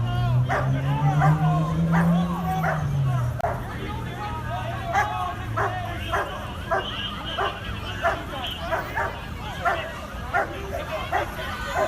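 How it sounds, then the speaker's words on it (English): Four police canine squad dogs bark and yip furiously at protesters outdoors, a continuous run of sharp, overlapping barks over crowd babble and a low engine drone. "the West Haven Canine Squad came out with 4 dogs barking furiously at protesters"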